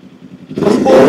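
A 500cc Kawasaki Ninja 500 with an R9 slip-on exhaust, a brief low idle rumble that sharply rises into a loud, gruff rev within about a second, recorded close up.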